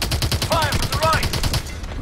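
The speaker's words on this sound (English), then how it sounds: "Fire from the left!" Gunfire in the Call of Duty: Advanced Warfare campaign, a quick rattling burst of rapid shots under game dialogue and in-game voices, loud and close over about two seconds.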